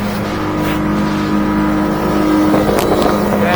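A 2023 Hewescraft 240 Ocean Pro boat driven by a Yamaha F300 outboard runs steadily at speed, a loud, constant engine drone with rushing water and wind noise and no talking.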